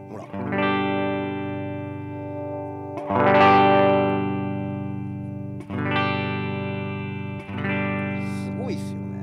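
An electric guitar played through a Quilter Tone Block 202 amplifier sounds four sustained, distorted chords that ring out one after another, with effects-laden tone and a slight bend near the end, loud and close, with no voices.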